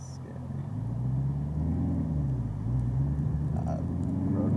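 A 650hp Camaro ZL1 engine pulls along in normal driving, a steady, low, close rumble that holds constant throughout with no one speaking.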